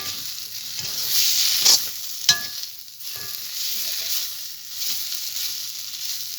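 Taro flowers frying in a pan, a steady close sizzle with occasional stirring scrapes and a sharp clink of a utensil against the pan.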